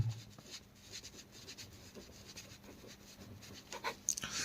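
Faint pen-on-paper scratching and rubbing while a maths problem on a right triangle is worked out by hand, quiet and intermittent strokes with a few louder taps near the end.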